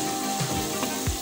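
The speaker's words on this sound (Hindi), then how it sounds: "टमाटर को भी अच्छे से प्याज में और लहसुन में भून लें" Four tomatoes fry with onion and garlic in a pan for egg keema biryani, giving a brief, dense, close hiss of sizzling that stays steady, with a few faint stirring bumps.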